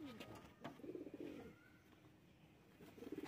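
Pigeons, a female and a male, coo softly in low, rounded murmurs, faint and somewhat distant against background noise.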